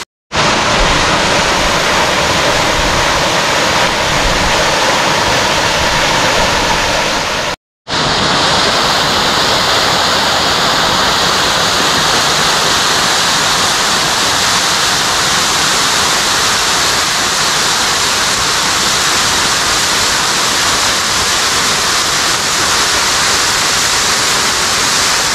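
The Nakovalnya waterfall in the Mishoko gorge in Adygea pours steadily, a loud, unbroken roaring rush of falling water heard up close, cut by one brief dropout and with no voices.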